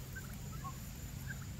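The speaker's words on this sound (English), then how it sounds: "Happy birds. All right, turkeys." Turkeys gobbling at their roost, a few faint, brief calls rising over a steady low hum of background noise.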